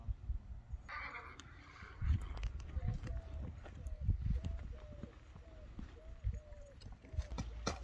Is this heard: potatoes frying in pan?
no